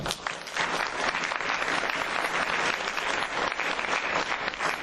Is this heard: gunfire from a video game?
no